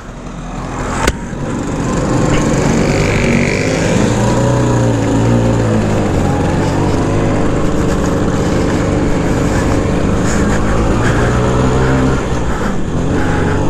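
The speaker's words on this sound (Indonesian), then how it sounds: "saya pakai Vespa ini ya" A Vespa PX scooter is ridden, its engine roaring loud and close in a steady buzzing drone with small rises in revs, starting after a brief click and holding continuously to the end.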